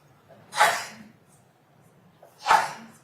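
Two separate sneezes about two seconds apart in a quiet courtroom, each a sharp, fairly close burst followed by a fading breathy tail.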